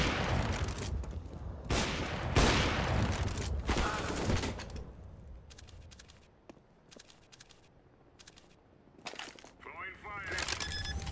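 Gunfire in a sniper video game match: several loud, sharp shots and bursts in the first half, then quieter clicks and scattered cracks with a brief sparse stretch, followed by more shots near the end.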